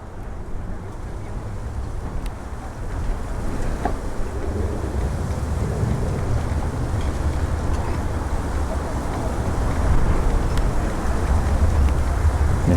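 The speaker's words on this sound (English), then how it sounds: "the wind's going straight through me here" Wind blows steadily at Malaga airport, a broad rumbling gust noise buffeting the microphone without a break and rising slightly toward the end; no voices are heard.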